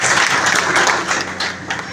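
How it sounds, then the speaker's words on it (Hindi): Applause from party workers at a Narwana party meeting, a steady dense clatter of many hands that fills the whole stretch and eases off slightly toward the end, with faint voices underneath. "उनके लिए जोरदार तालियां बजा दो"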